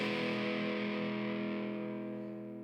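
An assembled TE-style electric guitar kit strummed on the neck pickup position, a sustained distorted chord ringing loud and full, then slowly fading toward the end with no talking.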